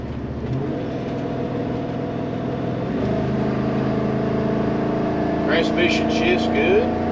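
Inside a 2005 Newmar Kountry Star Class A motorhome on the road, a steady engine and drivetrain drone changes pitch as the transmission shifts, with faint chirps near the end and people talking over it.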